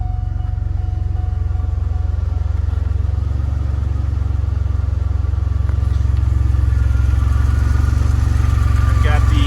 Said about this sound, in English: Stainless steel UK exhaust, which I believe this is one of the first ones they ever made.